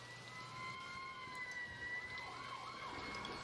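Wailing fire engine siren in the Emergency 4 video game, faint and distant, holding a steady tone and then sweeping up and down over low engine rumble.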